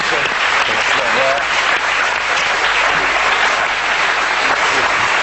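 Audience applauding at a live event, a dense sustained wash of clapping that fills the whole stretch, loud and close, with voices faintly mixed in.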